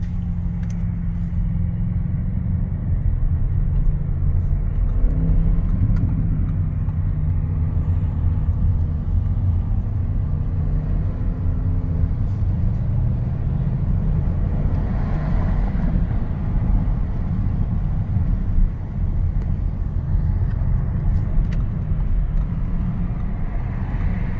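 A loud, steady Audi RS6 C8 engine rumble in sport mode, deep and continuous throughout, with occasional swells in intensity and no voices.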